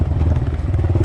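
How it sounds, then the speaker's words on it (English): An old Chevy car engine turns over and catches, a close, heavy low rumble with rapid thumping pulses filling a brief moment. "Oh yeah, the old Chevy's starting up."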